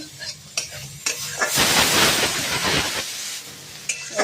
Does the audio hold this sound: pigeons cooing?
no